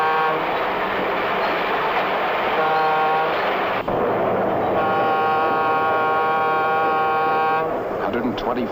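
A 1950s diesel freight train hauling freight cars, rolling steadily with a loud rumbling drone while its horn sounds in long sustained blasts, a narrator speaking over it.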